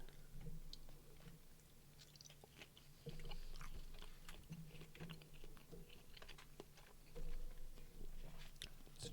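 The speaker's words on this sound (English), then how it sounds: "Is it my loud chewing?" Close, loud chewing and biting with wet crunchy clicks at an irregular rhythm, alongside faint keyboard-like taps.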